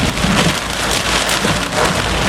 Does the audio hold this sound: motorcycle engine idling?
no